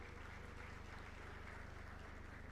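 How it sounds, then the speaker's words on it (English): An audience at a FICCI Ladies Organisation event gives a round of applause, a dense, even wash of clapping from many people, steady and moderately loud with a low hum beneath. "they deserve a huge round of applause from all of you."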